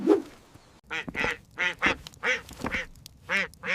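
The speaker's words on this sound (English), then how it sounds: "He quickly seized the guilty duck by its wing and carried it away." A duck quacks repeatedly in a quick, uneven series of nasal calls, close and clear with nothing else around.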